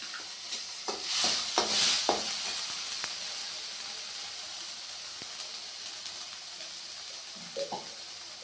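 Soft steady sizzling of ginger garlic paste sautéing in a pan, with a few scraping stirs near the start and end.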